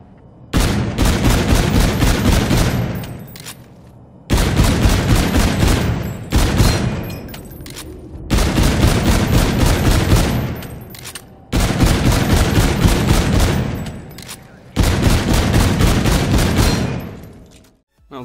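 A DMR rifle in Call of Duty: Infinite Warfare fires in six loud bursts of rapid synthetic gunshots, each burst lasting about two seconds and trailing off into brief echoing tails between them.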